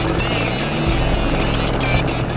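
A helicopter hovers about 1,200 feet above the ground in Idaho, its rotor and engine making a loud, steady droning whir that fills the moment without letting up.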